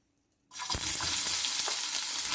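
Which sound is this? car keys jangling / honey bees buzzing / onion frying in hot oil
onion frying in hot oil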